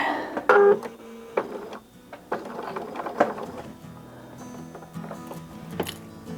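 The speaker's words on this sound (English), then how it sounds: "So we will just start sewing there." A sewing machine works along a printed seam line on fabric, giving close, irregular mechanical clicks and short whirring runs with small pauses between them, with no voices.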